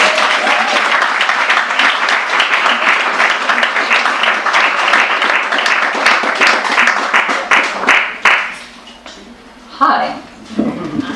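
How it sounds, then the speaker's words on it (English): Sustained audience applause with dense clapping for an author at a book event, steady and loud for about eight seconds before tapering off, then a voice begins speaking. "Let's please give her a warm round of applause."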